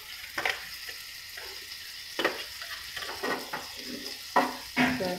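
Butter sizzles in a hot pan over a low flame for a Dora cake, giving soft intermittent hissing bursts between quiet gaps, fairly faint and close with no talk.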